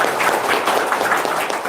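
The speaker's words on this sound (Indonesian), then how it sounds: "Tepuk tangan lagi dong buat Kiai dong" An audience claps steadily for a Muslim cleric, a dense, even patter of many hands, moderately loud and sustained with no pause.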